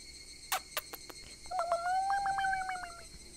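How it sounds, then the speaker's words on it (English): Higurashi cicadas singing at sunset in the video game Higurashi no Naku Koro ni, a thin rising-and-falling trill following a few sharp clicks, faint and alone. "The sound of the cicada."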